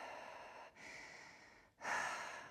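Two long, soft exhalations during yoga practice, close and quiet, each a steady airy breath with a brief pause between them.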